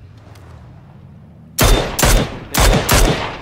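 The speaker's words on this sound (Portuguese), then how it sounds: "Três tiros aqui" Four loud, close gunshots in PUBG Battlegrounds, sharp cracks in an uneven burst after a quiet stretch, with no voices over them.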